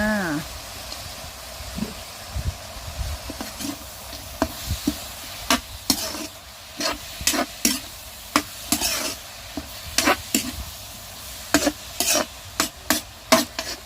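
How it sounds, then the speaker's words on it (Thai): Frog meat stir-fried in a pan with fresh green peppercorns for a dry holy-basil stir-fry sizzles steadily while a spatula clacks and scrapes against the pan in frequent sharp strikes, close by. "ใส่พริกไทยสดลงไปผัดเลยจ้า"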